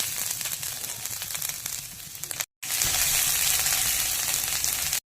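Ginger sizzles in hot oil for rava idli with a loud, crackling frying hiss, briefly cut by a short gap before resuming louder and brighter, close up with no talking.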